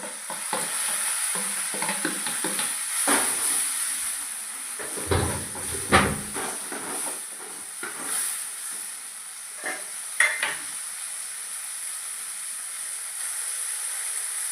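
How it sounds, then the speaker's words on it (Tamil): Tomato and green chili frying in a pan for potato masala, a steady sizzle and hiss with intermittent stirring scrapes and a few clatters, close and continuous with no talk. "தக்காளி பச்சை மிளகா போட்டுக்கலாம்."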